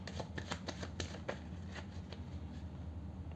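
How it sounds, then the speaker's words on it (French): A deck of tarot de Marseille cards being shuffled up close, with quick rapid riffling flicks and snaps that taper into a softer, steady rustle. "Je vais commencer à battre les cartes."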